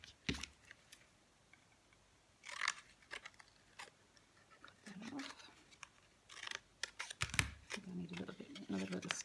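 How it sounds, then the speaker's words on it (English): Scissors snip through craft material while building doll house furniture, a few short crisp cuts spaced out among quiet pauses, with a person talking between them. "I'm just going to cut there and then cut that off."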